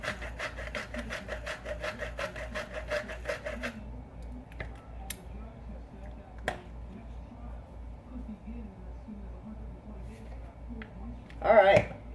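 Rapid rhythmic grinding of salt and pepper from a hand grinder, a quick burst of scratchy rasping turns up close, followed by quiet room sounds.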